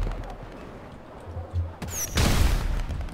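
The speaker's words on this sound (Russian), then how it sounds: "Эй, давай салют." Dull booms and bursts of fireworks in GTA Online, a few scattered pops and then a louder crackling blast near the end, heard without any talk.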